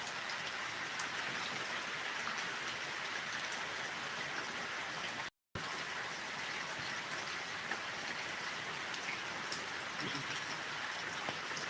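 Heavy downpour hissing steadily and loudly on surfaces, a dense, unbroken wash of rainfall close by, interrupted only by a brief dropout midway.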